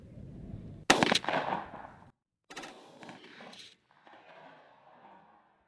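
A loud rifle shot from a Rossi rifle with a honed barrel at an outdoor range, sharp crack with a ringing tail, followed after a pause by a second, fainter shot and lingering echo.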